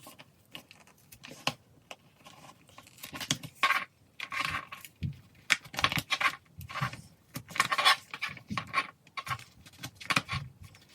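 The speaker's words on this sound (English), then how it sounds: "And then I will just poke the holes all the way through." Planner pages are pierced by hand with a tool, giving a series of sharp, close, quiet clicks and crinkly paper taps in an irregular rhythm, with no talking.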